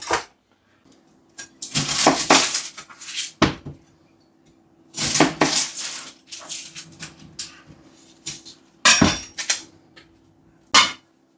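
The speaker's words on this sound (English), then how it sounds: "now that's done, we'll just chop up the onion" A knife chops onion into big chunks on a board, sounding as close, sharp clusters of knocks in irregular bursts separated by short pauses.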